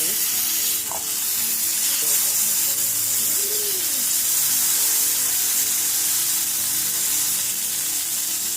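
Burger patty frying in a pan for loco moco, a loud, constant close-up sizzle and hiss of spitting fat that runs unbroken throughout, with a couple of faint clinks.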